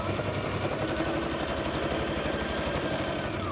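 A sewing machine stitches a handmade woodland journal, its rapid even mechanical chatter running without pause at moderate volume.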